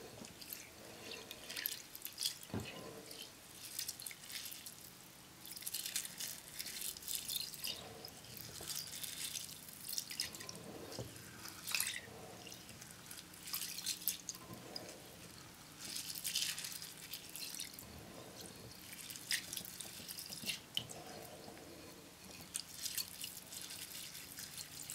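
Rice being rinsed and squeezed by hand in a sink of cloudy water, close up and alone, with steady dripping, trickling and sloshing water throughout.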